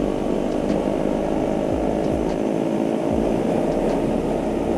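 A KTM 390 Duke single-cylinder engine drones loud and steady while riding, with a few quick downshift dips in pitch and constant wind rush.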